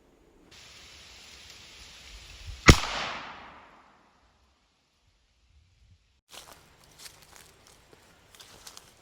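A single muzzleloader rifle shot rings out while a budget scope combo is sighted in, a sharp, loud crack with a long decaying rumble. Silence follows, then faint shuffling and handling noises.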